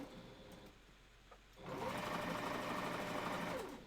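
A sewing machine stitches fabric for a wolf costume tail, starting after a quiet moment and running steadily and fairly loud for about two seconds before easing off.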